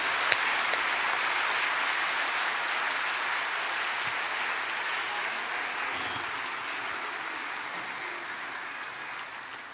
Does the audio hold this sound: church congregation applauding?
yes